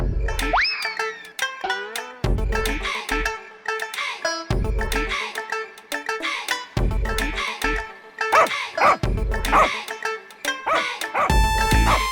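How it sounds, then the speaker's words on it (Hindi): A cartoon puppy barks and yelps repeatedly in a Hindi animated comedy, its sharp bow-wows mixed with springy boing effects and other cartoon sounds in a busy, lively sequence. "अरे वो कुत्ते का पिल्ला क्यों चिल्ला रहा है?"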